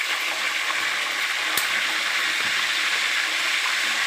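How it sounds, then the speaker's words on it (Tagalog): Food fries in a pan with a dense, steady sizzling crackle that holds at an even level throughout, close and fairly loud, with a faint click partway through. "Tapos, meron pa tayong ipiprito."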